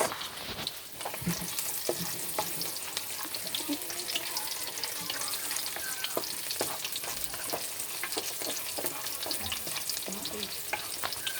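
Onions fry in a pan for pinakbet, giving off a constant bright sizzle with frequent small crackles and occasional stirring clatter close by.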